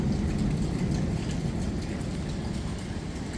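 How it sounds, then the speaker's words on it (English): Heavy rain and wind lash Sokcho Beach in South Korea on a cold, stormy day with high waves, a dense, constant roar of downpour without pause. "weather is terrible, even worse than yesterday. Strong rain, wind,"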